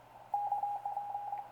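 The digital dial on a homemade 30 meter transceiver gives a steady electronic tone that starts abruptly, holds with a brief break, then continues, close and moderately loud over a low hum.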